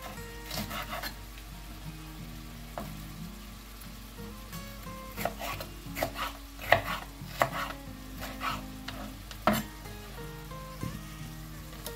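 A knife finely chopping green pepper on a board, quick irregular taps at moderate distance over a low kitchen hum, with faint sizzling in the background.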